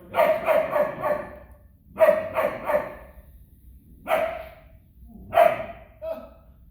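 German Shepherd dog barking and yipping in four short bursts of clustered, harsh vocalizations separated by pauses, moderately close, with no talk.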